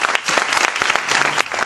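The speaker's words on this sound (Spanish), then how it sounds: "Le ruego pues un aplauso como signo de bienvenida y de gratitud" A short burst of dense, even clapping from an audience at a lecture welcoming a speaker, loud and close with no voices over it.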